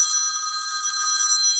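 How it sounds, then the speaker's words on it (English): A mobile phone rings during a council planning committee meeting, a steady, bright electronic trill that holds continuously, close and fairly loud, with no talk over it. "Just let me get this phone off"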